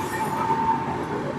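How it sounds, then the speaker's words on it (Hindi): A train rolls past in a brief, steady rush of rumbling wheel noise, with a faint high tone running through it. "अभी आपको ट्रेन की सीटी सुनाई दे रही है।"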